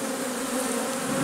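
Honey bees buzz at an apiary, a dense, continuous drone of many insects, steady and close, with no voices.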